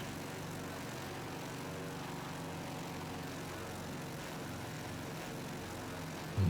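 Piston aircraft engines droning steadily at reduced throttle in Microsoft Flight Simulator 2024, a classic propeller airliner such as the Constellation or Boeing 247D, a low even hum with no talk.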